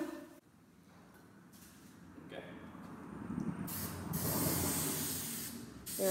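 Super 77 spray adhesive sprayed from a can while gluing Sunbrella sail-pack fabric, heard as a hiss that builds and runs for a couple of seconds, with a quieter burst before it.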